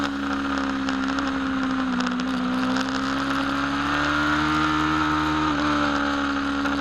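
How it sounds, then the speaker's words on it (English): A racing motorcycle on a track holds a loud, close, sustained engine note that rises and dips slightly as the throttle is worked, steady throughout without any talk. "let's just sit back and soak up the sounds of this beautiful motorcycle"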